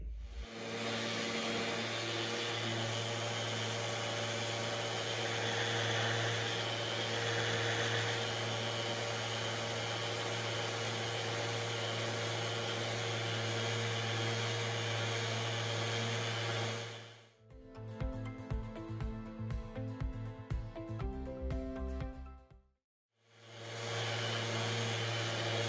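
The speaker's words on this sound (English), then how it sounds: "Start with 36 grit sandpaper and finish with 80 grit." Power sanding of teak deck seams with coarse 36 to 80 grit sandpaper: a loud, steady whirring drone for most of the stretch, broken by a short rougher, choppier patch and a brief silence before the even whine returns.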